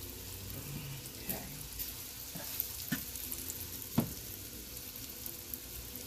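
Flour-dredged pork chops sizzle softly in a pan, a low steady frying hiss broken by a few faint clinks and scrapes as they are moved around.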